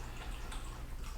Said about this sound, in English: my dog chose this moment to drink out of her water bowl